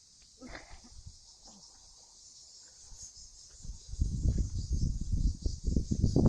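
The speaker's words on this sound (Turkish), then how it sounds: "Cırcır seslerini duyuyorsunuzdur." Crickets chirp in a constant high-pitched trill throughout, with rustling and handling noises growing louder nearby in the second half.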